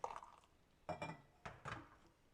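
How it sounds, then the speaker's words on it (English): Hot water splashes into matcha in an insulated mug, quiet and close, with a few short bursts of pouring and clinking broken by brief pauses. "now I can just add hot water and stir it in the rest of the way."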